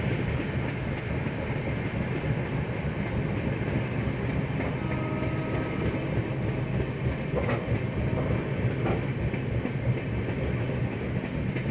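The Swarn Shatabdi Express (train 12004, New Delhi to Lucknow) rolls slowly past Pankhi Dham station, heard from on board as a steady loud rumble with rhythmic wheel clatter and faint squeals throughout.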